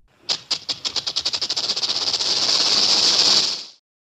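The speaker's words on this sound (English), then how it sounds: "Snake." A snake hisses loudly and close, opening with a quick series of pulsed, rattling bursts that merge into one steady, drawn-out hiss lasting about three seconds before it cuts off.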